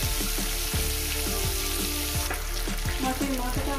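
Katla fish head frying in hot oil, with a steady sizzling hiss and a run of soft, fairly regular knocks from spatula or pan throughout, close and alone without any voices.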